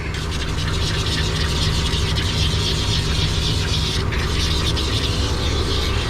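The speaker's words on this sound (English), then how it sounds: "that sound is the super sudsor, and it's saying I'm just pumping out foam at this point" Continuous loud mechanical pumping and whirring of a foam-pumping dog bath sudser machine, with a rapid rattling texture, steady throughout with no pauses.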